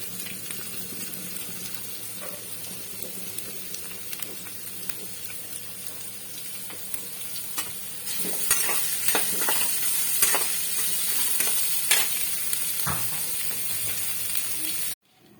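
Onions frying in oil with curry leaves, green chillies and tempering seeds for gunta ponganalu, a steady close sizzle that thickens halfway through, with occasional stirring scrapes and no talk.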